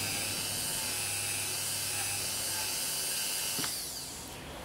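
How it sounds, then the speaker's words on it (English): Dremel rotary tool polishing a copper-plated Minion figure, a steady close high-pitched whine that holds for several seconds before the motor spins down near the end. "I'll give this a polish with a Dremel, and it'll have its nice coppery colour instead of this salmon pink colour"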